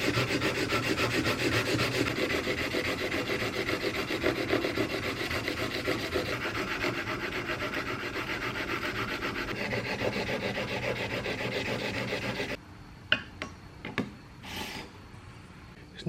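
The primary bevel of a roughly 100-year-old hand plane blade is sharpened with steady back-and-forth rasping strokes on an abrasive for about twelve seconds, then the rubbing stops, followed by a few light clicks and knocks.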